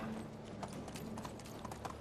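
Horse hooves clip-clopping steadily in Medieval Dynasty as a summoned mount approaches from far off, a quick rhythmic patter over a continuous ambient bed with no talk.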